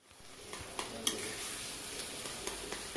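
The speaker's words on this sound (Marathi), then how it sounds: "वांग स्मॅश केलेलं आहे ना, ते परतून घेऊया आता" Smashed green brinjal for bharit sautés in a pan, a steady faint sizzle broken by sharp clicks and light spatula taps.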